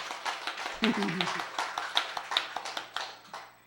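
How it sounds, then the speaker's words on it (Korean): A church congregation claps in a soft, sparse, fairly rhythmic pattern of distinct hand claps, faint and close, while a voice talks briefly over it. "여러분 자신에게도 대견하다고 박수 한번 쳐주세요"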